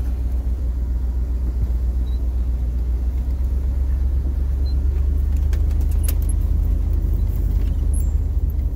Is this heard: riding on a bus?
yes